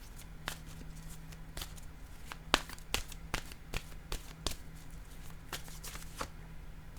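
An oracle card deck being shuffled by hand, giving repeated crisp riffles and soft slaps in irregular bursts, close and fairly quiet, with no talking.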